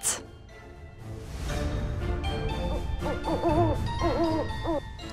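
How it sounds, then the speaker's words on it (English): An owl hoot, likely a stylised sound effect for a Halloween vocabulary lesson, opens with a loud burst and is followed by wavering hooting tones over a music-like backing. The hoots are clear and sit in the foreground. "Owl."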